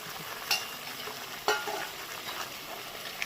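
Mint chicken sizzles softly as it is sautéed with garam masala in a pan, with a couple of faint scraping stirs standing out over the quiet, steady frying.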